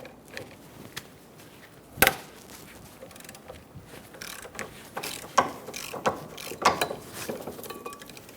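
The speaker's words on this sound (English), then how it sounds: "Using a 17mm socket, we're going to remove the 2 caliper bracket bolts" Ratchet wrench with a 17mm socket loosening the two brake caliper bracket bolts on a 2003-2007 Honda Accord front brake, giving close, loud clicking bursts of pawl ratchets and sharp metallic cracks as the bolts break free, with no talk.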